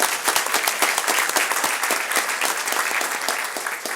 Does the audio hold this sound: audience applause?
yes